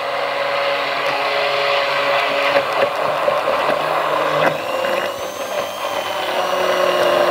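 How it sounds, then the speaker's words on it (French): A blender runs steadily to mix a turquoise-coloured glaze for a chocolate tart, giving a continuous close-up motor whir with small rattles and shifts in pitch throughout. "Donc j'en mets peu, je vais mixer."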